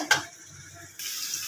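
Chicken curry being sautéed with spices such as cumin, turmeric, chilli, ginger and garlic paste in a pan, a quiet, steady sizzle with a brief clink near the start and the frying growing slightly louder partway through.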